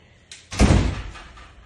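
A door swings shut with one solid, close thud, just after a faint creak, and the low boom rings briefly in a small indoor room.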